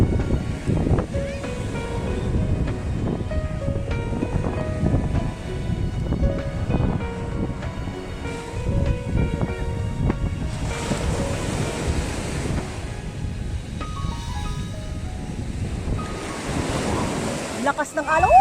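Strong ocean waves roll and wash ashore at Puka Beach in Boracay, a steady loud surf with wind buffeting the microphone and surges swelling now and then, with faint voices in the background.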